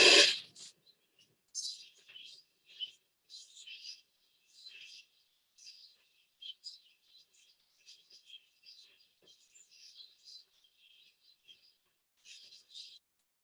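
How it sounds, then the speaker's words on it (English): Recording of bats squeaking as they fly by at night: a quick string of high, thin chirps and squeaks in scattered bursts over near silence, after a brief louder sound at the start. "These are bats squeaking while they're flying by."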